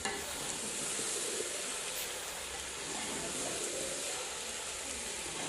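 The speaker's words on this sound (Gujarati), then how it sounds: "હવે એને સરખી રીતે હલાવી દેવાનું છે" A spicy Kathiyawadi green chickpea curry being stirred in a pan gives a steady, close sizzle and soft scraping hiss that runs unbroken and fairly quiet throughout, with no talking.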